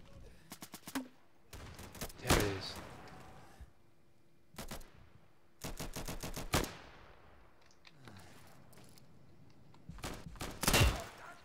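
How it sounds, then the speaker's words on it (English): Bursts of automatic gunfire in the video game Insurgency, several rapid volleys separated by short pauses, loud and close, with a few single heavy thumps between them. "Shooting at me."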